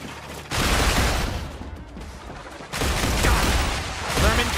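Rapid bursts of pistol gunfire in the video game StarRupture, loud and dense, with two sustained volleys of overlapping shots and booming impacts.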